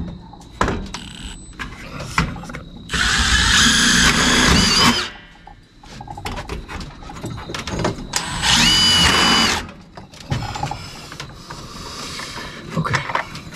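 Power drill boring holes into a metal pole barn soffit, heard as two sustained whining bursts of several seconds each, loud and close, separated by clattering handling noises.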